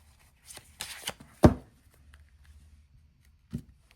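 Tarot cards are shuffled by hand in a few quick riffling bursts, one sharp slap standing out, then a lone later card tap in an otherwise quiet room.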